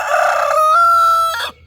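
A rooster crows once, close and loud, a single sustained harmonic call rising and holding before breaking off abruptly, with no talking.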